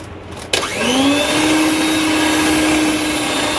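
An electric mixer beats tutti frutti cake batter with maida flour, its motor kicking in after a brief pause and then holding a steady, loud whirring drone to the end.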